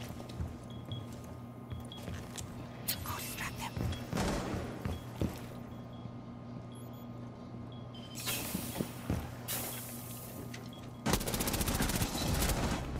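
Gunfire in the tactical shooter Rainbow Six Siege comes in several short, sharp bursts of rapid shots, separated by quieter stretches of low game ambience and an electrical hum.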